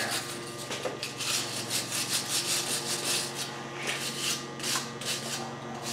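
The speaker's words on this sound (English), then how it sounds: "Then clean off with a wire brush around this brake line." A wire brush scrubs around a brake line on a 2002 Ford F250 Super Duty, producing a steady, close, dense scratching hiss with quick rhythmic strokes throughout.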